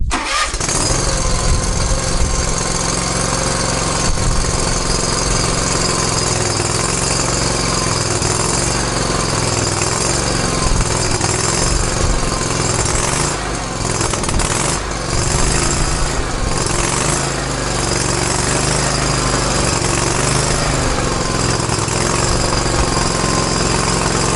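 A small Kawasaki mower engine cold-starts at half throttle in cold weather, sputtering into life and then running loudly and steadily at close range, a constant rough drone with no talking.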